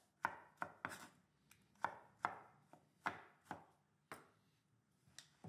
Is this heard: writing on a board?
no